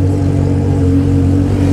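Dozens of Honda Hornet motorcycles with straight pipes idle and rev together on a hill, a dense, steady low engine drone with no voices over it.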